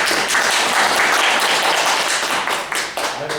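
Loud audience applause in a lecture hall, dense clapping from many people that thins and trails off toward the end.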